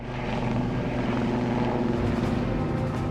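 A military helicopter flying over the desert, its rotor and engine making a loud, steady, close drone that holds throughout without any talk.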